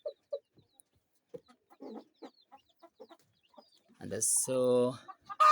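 A Kienyeji hen in a laying nest on a Kenyan chicken farm gives soft, scattered clucks, then a louder drawn-out squawking cackle near the end, with someone talking close by.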